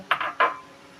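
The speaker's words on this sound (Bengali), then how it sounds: "ডিমটাকে এভাবে চামচের সাহায্যে নাড়াচাড়া করে ঝুরি করে নিতে হবে" A spoon scrapes and clatters against a frying pan while beaten egg is stirred and scrambled beside vegetables for vegetable fried rice, making three short metallic scraping bursts close by, then quiet.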